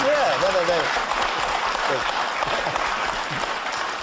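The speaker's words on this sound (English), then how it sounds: "You have to stop in order to get the applause" Television studio audience applause fills the room with dense, sustained clapping that gradually thins, while a voice speaks briefly over the start.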